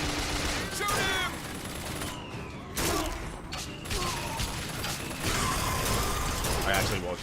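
Gunfire in the video game BioShock Infinite crackles in dense repeated bursts amid mechanical clatter and busy game noise, loud and nearly continuous with brief lulls.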